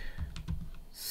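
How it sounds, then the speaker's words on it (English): A few close, quick keystrokes on a computer keyboard while a command is entered on a Raspberry Pi setup, short and fairly quiet with no talking. "I'm going to type sudo"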